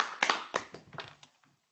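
Brief scattered applause from a small audience at a weekly online meeting, a few uneven claps in quick succession that thin out and fade within about a second.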